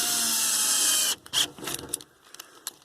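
A power drill drives small square-drive Robertson screws, whirring steadily and loud for about a second before cutting off, followed by scattered clicks, taps and short mechanical rattles.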